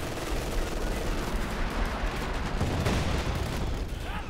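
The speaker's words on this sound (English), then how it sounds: "Following up with an incendiary white phosphorus barrage." Incendiary white phosphorus artillery barrage in the World War II strategy game Company of Heroes 2, a dense, continuous roar of crackling shell impacts and bursts that stays loud and steady throughout.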